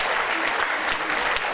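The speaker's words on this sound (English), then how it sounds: "Give Pat a round of applause." Audience applauding for Pat during a magic card trick act, a steady dense wash of clapping throughout the short stretch with no voices over it.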